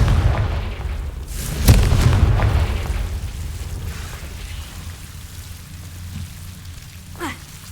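Confringo fire spell from Hogwarts Legacy bursting with one loud, sharp boom near the start, then a rumbling low tail over steady ambient noise and a faint whoosh near the end.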